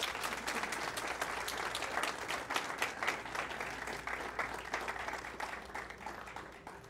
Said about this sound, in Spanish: Y un aplauso para ustedes por haber sido un público maravilloso.